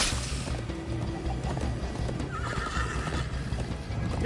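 A horse gallops with rapid rhythmic hoofbeats and whinnies in Minecraft: Story Mode, loud and close, with no talk.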